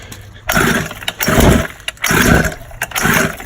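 A Baotian BT49QT-12 scooter engine is cranked over and over, with several loud, close starting bursts in a steady rhythm and brief pauses between attempts. It does not catch and run.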